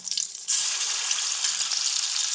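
Onion and garlic paste dropping into hot oil for an egg curry, a sudden loud sizzle that starts about halfway in and holds steady, close and bright, with no talk over it.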